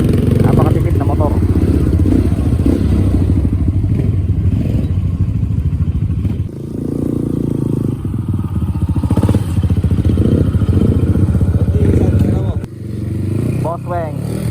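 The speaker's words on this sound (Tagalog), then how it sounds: "CRF 150L. Napakatipid na motor." A Honda CRF 150L motorcycle climbs a mountain trail in Itogon, Benguet, its engine droning steadily and loudly throughout with gear shifts and rough-road clatter, while people talk over it.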